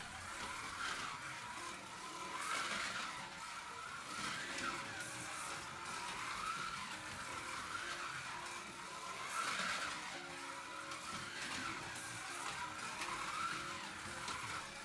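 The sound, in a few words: Policar slot car driving laps on a track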